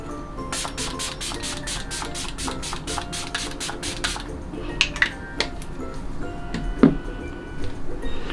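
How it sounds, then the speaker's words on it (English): A makeup setting spray pumped onto a face in a rapid series of about a dozen short, close hissing spritzes, then a few faint clicks and handling taps in a quiet room. "I'm gonna go in with the same spray that I used earlier"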